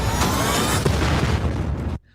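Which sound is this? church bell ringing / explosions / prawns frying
explosions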